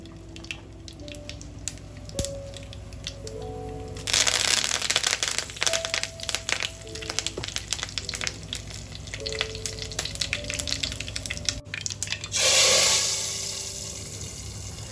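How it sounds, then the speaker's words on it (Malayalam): Mustard seeds and curry leaves sizzle in hot coconut oil as a tempering for a cucumber and ground coconut curry, a soft background hiss that erupts into loud crackling spatter, pops, then flares again near the end. "അപ്പോൾ കടുക്, കറിവേപ്പില, വെളിച്ചെണ്ണ ഇതാണ് ഒഴിച്ച് കൊടുക്കുന്നത്."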